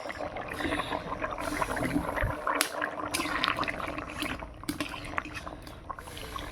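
A thick vegetable and soybean curry gravy with potatoes boils in a pot, bubbling and gurgling steadily at close range. A few light clinks come through now and then.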